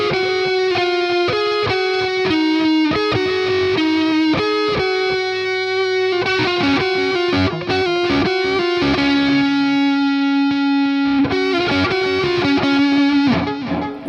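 An Epiphone Les Paul Prophecy electric guitar plays sustained lead lines through a screamer overdrive with a touch of digital effect, saturated held notes and quick runs ringing loud and alone.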